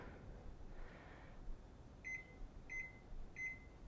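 An oven timer chirps three times in a steady rhythm, each a short bright electronic beep, after a soft press, with a quiet low room hum underneath and no talking.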